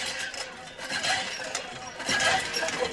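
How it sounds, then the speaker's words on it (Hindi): A hand pump being worked by hand: scratchy metallic squeaks and clinks repeat in a rough, uneven rhythm, close by and moderately loud, with no talking. "ये है हैंडपंप की आवाज।"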